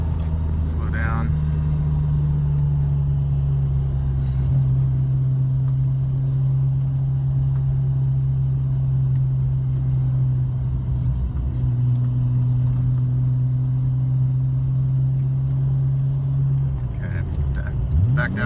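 A 1993 BMW M5 pulls hard in second gear toward redline, its engine a loud, sustained in-cabin drone holding a strong steady tone before dropping off at the end, with a voice talking over it.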